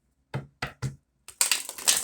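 A deck of tarot cards being shuffled: three short separate riffles, then a longer, denser burst of card shuffling, close and clear with no talk.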